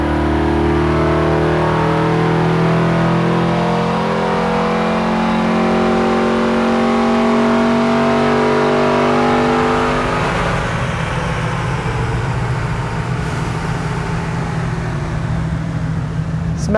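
A race car on a track accelerates hard, its loud engine note climbing steadily through the gears before settling into a sustained high-speed drone, close and alone with no talk.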